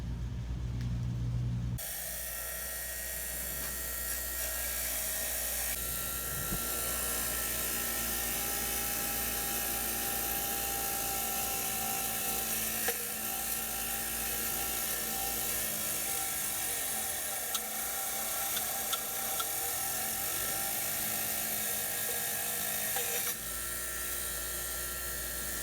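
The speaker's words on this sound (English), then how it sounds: "So I'm going to start wire wheeling this again here" A wire wheel grinds rust off the body of an 1986 Cutlass, a steady, dense, high-pitched whirring scrape that runs continuously and loud at close range.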